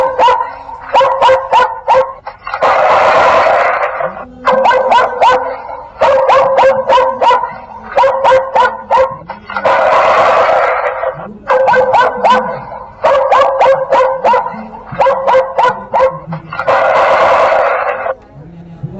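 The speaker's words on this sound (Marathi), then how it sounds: "अशा प्रकारचे आवाज आपल्याला ऐकू येतील। कुत्र्याच्या आहेत" Recorded dog barking played from an animal repeller speaker: loud, close bursts of rapid barks alternating with longer howling yelps in a repeating pattern.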